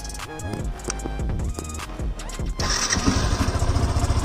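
A modified Yamaha FZS V2.0 motorcycle is switched on: a starter whine turns over, then the engine catches and settles into a steady, close, fairly loud idle, with no voices.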